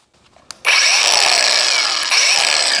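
An ArcCaptain angle grinder with a cutoff wheel spins up after a small click and cuts steadily, a loud, close, continuous high-pitched whine with a brief dip partway through.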